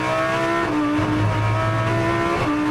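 A Lamborghini GT3 race car accelerates hard in second gear out of Luffield corner at Silverstone, its engine note loud and continuous with rising harmonic pitch as revs climb, heard close without any voices.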